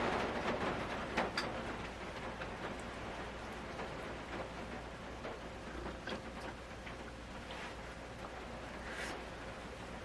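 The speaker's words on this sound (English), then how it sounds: "that's what it sounds like when it rains" Rain drums steadily on the roof of a converted school bus, a dense continuous patter with scattered louder drops, close and even throughout with no talking.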